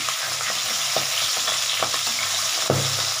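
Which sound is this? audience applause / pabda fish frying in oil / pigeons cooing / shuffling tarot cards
pabda fish frying in oil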